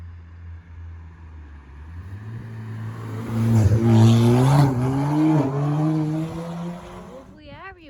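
A Ford Fiesta ST with a KMS twin-exit exhaust revs up to about 4,000 rpm, a close engine note rising and holding loud before falling back, with a brief voice over it.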